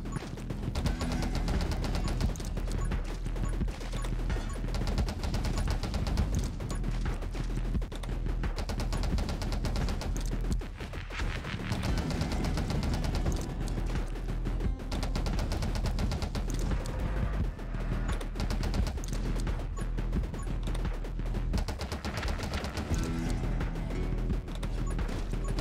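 A gun fires in the video game 20 Minutes Till Dawn, rapid dense bursts of shots and impacts packed over driving game music, continuous and busy from start to end.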